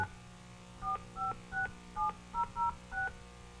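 Seven short electronic telephone dial tones beeping in a steady sequence during a city commission meeting, each a clean two-pitch chirp, over a faint background hum.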